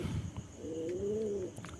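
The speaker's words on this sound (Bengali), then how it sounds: "অনেক সুন্দর সুন্দর পায়রা আছে এখানে" A pigeon on a pigeon farm coos once in a low, drawn-out rolling call, close by, with faint background hiss and a few soft clicks.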